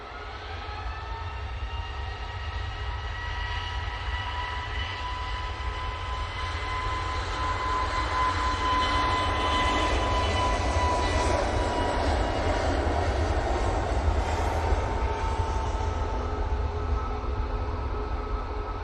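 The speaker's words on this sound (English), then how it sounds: "So, they're off to Malaga with that 321 Neo." Airbus A321neo jet departing Manchester Airport bound for Malaga, a steady roaring engine drone with whining tones that swells gradually and holds, heard from a distance without talk.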